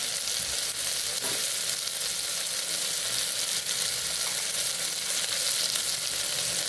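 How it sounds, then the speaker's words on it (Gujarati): Sprouted pulses sauté in oil with coriander-cumin powder and red chili powder for a Kathiyawadi-style curry, making an even, close sizzle that runs without a break. "સરસ કઠોળને આપણે સાતડી લેવાનું છે।"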